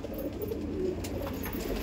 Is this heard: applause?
no